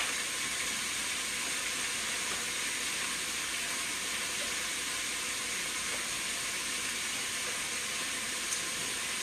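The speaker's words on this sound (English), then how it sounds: "now that second batch is browning" Beef browns in an Instant Pot with a steady, dense sizzle and hiss, constant and fairly loud throughout with no talking.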